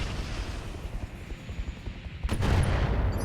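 In the RogueTech mech game, an MML missile launcher fires a rolling salvo of rapid booming blasts, a dense continuous crackle that swells louder toward the end.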